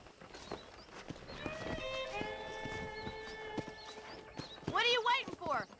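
Horses clip-clopping in the video game Red Dead Redemption, with hoofbeats and a whinny mixed under game speech and music, then louder bursts near the end.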